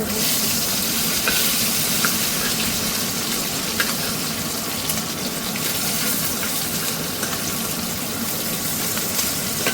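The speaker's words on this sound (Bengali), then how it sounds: "মাছগুলো ভাজা হোক এই মাছগুলোরও এক পিট হয়ে গেছে" Fish fry in hot oil in a pan with a loud, steady, close sizzle that runs without break, and small crackles and pops scattered on top, with no voices.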